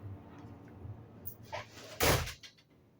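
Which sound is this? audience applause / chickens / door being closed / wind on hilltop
door being closed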